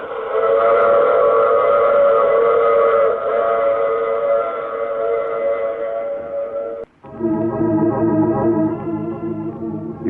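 A train effect from a vintage radio crime drama: a sustained, chorused steam-whistle wail holds for several seconds, cuts off abruptly, then resumes with a shifted, layered whistle tone over a low rumble.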